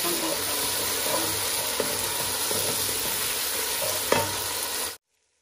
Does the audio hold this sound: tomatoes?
yes